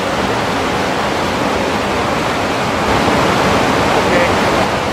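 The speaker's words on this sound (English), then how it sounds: "see if I can get a shot of this little fall right here" A small waterfall pours in a continuous, dense, steady rush of splashing water, heard close and loud throughout with no pauses.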